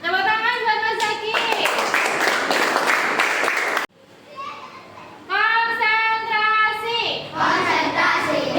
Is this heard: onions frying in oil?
no